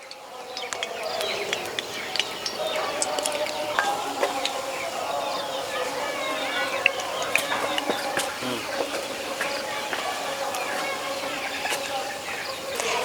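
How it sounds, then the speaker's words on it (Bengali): Atta ras vada dumplings made from wheat flour batter sizzle in hot oil in a wok, a continuous crackling fry with small pops throughout, while birds chirp faintly in the background. "এবার বড়াগুলো তেলে ছেড়ে দেব।"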